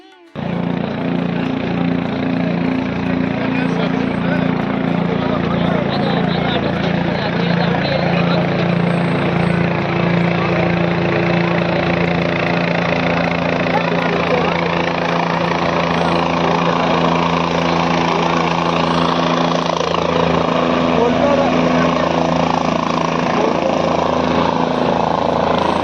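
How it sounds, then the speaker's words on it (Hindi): A helicopter shuttle flying in the Kedar valley near Kedarnath makes a continuous, close rotor thrum and engine whine that stays steady and loud throughout, with voices faintly underneath. "आप ये देख सकते हैं हेलीकॉप्टर, हेली सर्विस भी यहाँ पर"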